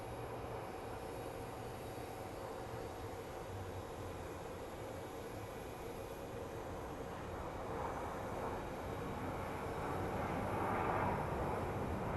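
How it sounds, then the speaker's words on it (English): A United Boeing 737 airliner landing at Phoenix Sky Harbor International Airport, heard as a steady, distant broadband jet roar that swells slightly toward the end, with no voices. "It's a United 737."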